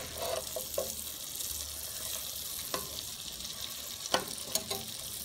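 Garlic sautéing in a pan on a gas stove while chicken in coconut milk is being prepared, a soft steady sizzle with a few brief clicks and scrapes, fairly faint and with no voices.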